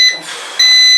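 A shrill electronic beep from a K60 Pro mini drone sounds, drops away briefly, then returns as a steady high-pitched tone, loud and close.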